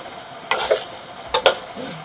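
Onions softening in a hot pan for sambal tumis give a steady broadband sizzle, broken by two or three brief scraping stirs near the pan; no one talks.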